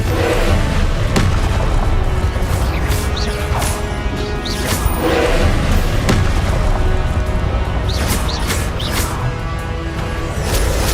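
Confringo blasting spells explode in the Hogwarts Legacy video game, a loud, dense run of booming impacts and crashing blasts that follow one another closely throughout, with debris-like clatter between the bursts.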